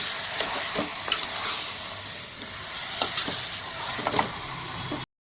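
Native country chicken is stirred into a frying pan with a steady sizzle, with several clattering utensil scrapes, before a brief silence at the end.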